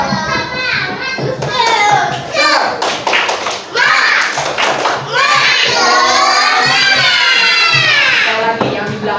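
A class of children at an elementary school in Sungai Miai does a rhythmic spirit clap, loud group chanting and shouting mixed with bursts of clapping and thumps, close and lively, with voices throughout.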